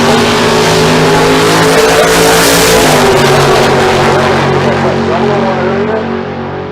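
Chevrolet Camaro drag cars, one a 1970 body, launching together at Famoso Dragstrip during bracket racing, a dense, loud, continuous engine roar that holds steady and then fades slightly as they pull away.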